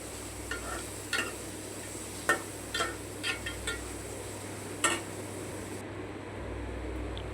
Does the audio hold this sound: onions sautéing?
yes